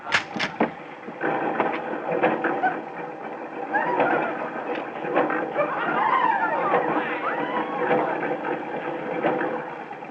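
A Ferris wheel motor in a radio drama runs as a steady, muffled mechanical whir with a faint rattle. It continues unbroken for about ten seconds at moderate level.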